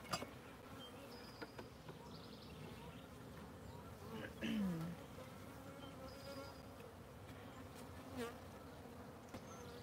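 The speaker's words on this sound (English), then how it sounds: "This hive doesn't have very many bees in it." Honey bees drone steadily around an open hive during an inspection, a dense continuous buzz with a few louder passes close by, under low background noise.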